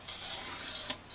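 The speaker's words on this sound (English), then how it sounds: "all we have to do is just trim a little bit off of this straight edge" A blade drags along a straight edge to trim a book cover, making one smooth, close rasping stroke about a second long that ends in a brief louder scrape.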